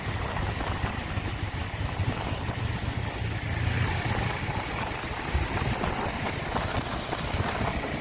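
A motorbike roaring along an empty early-morning road, a steady loud engine drone mixed with heavy wind rush, continuous and close, with no speech.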